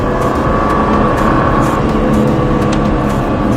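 A race car engine roars steadily under load in fourth gear on a track, loud and constant with a strained, rising drone, heard from inside the vehicle.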